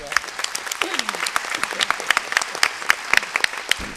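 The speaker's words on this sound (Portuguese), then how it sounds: "Eu peço uma salva de palmas para o nosso professor." At a lecture on women's rights in family law, an audience applauds its professor: dense, lively clapping from a sizable crowd with distinct sharp claps, and a faint voice briefly underneath.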